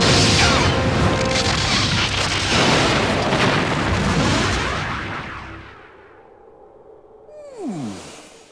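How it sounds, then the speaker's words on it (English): Heavy weapons fire from a Borg cube striking a starship in a Star Trek game, loud booming blasts and crashing impacts rolling for several seconds before fading, then a short descending electronic whine. "The Borg cube is firing."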